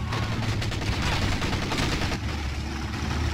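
Machine gun fire crackles in Company of Heroes 2 during a battle at Achelous River. A dense, steady rattle of distant automatic fire carries through the short span, with no talk over it.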